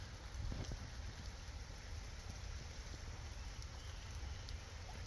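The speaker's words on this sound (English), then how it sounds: "Definitely got a lot of rain." Heavy rain falls steadily across a flooded backyard lawn, a dense, even wash of drops with low rumbling wind, continuous and fairly close, with no voices.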